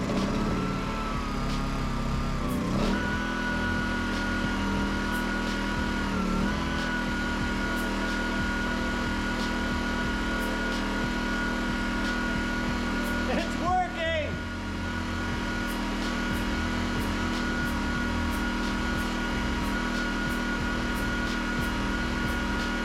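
A small gasoline engine with the choke on full catches after pull-starting and settles into a steady, loud running drone that carries through the whole stretch, with a brief surge partway through.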